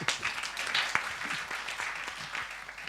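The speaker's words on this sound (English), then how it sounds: "give him a round of applause" Applause from a talk audience greeting a man who admitted to having been fired, a short burst of clapping that thins out over a few seconds, with a faint voice underneath.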